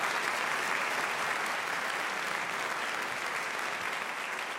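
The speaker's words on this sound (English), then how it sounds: "I would just like to invite one more round of applause for Robert Rosenkranz" A debate audience gives Robert Rosenkranz a round of applause, a loud, sustained and even roar of many clapping hands filling the room throughout.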